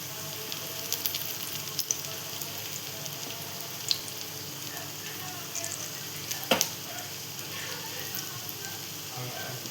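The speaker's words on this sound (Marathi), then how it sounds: "इथे तेल ठेवले तापत, पॅनमध्ये तेल तापत ठेवलं आपण." Besan-coated bread sizzles in hot oil in a pan: a steady, fairly soft crackling hiss with a few brief pops and clicks throughout.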